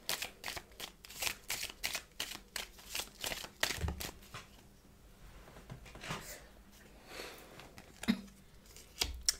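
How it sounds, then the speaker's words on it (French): Tarot cards drawn and laid onto a table already covered with cards, a quick series of crisp flicks and soft slaps in bursts, close and quiet, easing into gentler handling before a few final snaps. "Alors je rajoute une carte alors qu'il y en a déjà une tonne sur la table."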